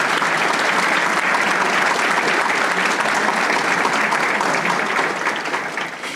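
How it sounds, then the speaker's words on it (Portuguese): Dense, loud audience applause welcoming panelists at a banking panel event, continuous clapping from a crowded room that stays steady and then tapers off toward the end. "Vamos recebê-los com uma salva de palmas"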